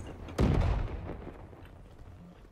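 A heavy explosion bursts loudly in the Call of Duty: Black Ops 3 video game, a deep booming blast that rumbles and decays over a second, followed by quieter battle noise and a sharp pop at the end.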